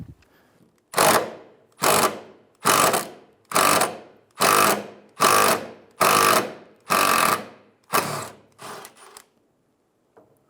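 Ratchet with a 12mm socket loosening the sway bar bushing bracket bolts on a 2007-2011 Toyota Camry, nine evenly spaced bursts of rapid clicking ratcheting strokes, close and clear, with a few quicker partial strokes at the end.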